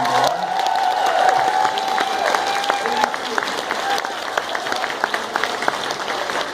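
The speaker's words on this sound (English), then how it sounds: "So you can give her a round of applause too." Audience applauding and cheering for the gaming team at a convention closing ceremony, a steady wash of clapping from a crowd with scattered whoops, fairly loud and continuous throughout.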